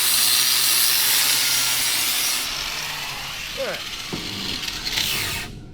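Paint is scrubbed off a front suspension part for a 440cc two-stroke Murray Kilo go-kart, a loud rasping, scraping rub close up with a few sharper scratches, fading toward the end.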